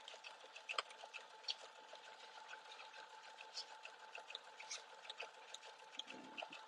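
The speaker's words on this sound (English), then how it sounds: "And I'm using a zigzag stitch right now." A sewing machine runs a zigzag stitch while embroidering a hoodie, giving a quiet, rapid, steady mechanical patter heard close with small clicks, alone without speech.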